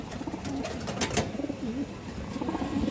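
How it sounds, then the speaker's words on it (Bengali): A male Musaldom pigeon coos close by in soft, repeated rolling phrases that run through the moment, with a little background noise and no talk. "একটা পুরন জাতের মুসলদম কবুতর নর"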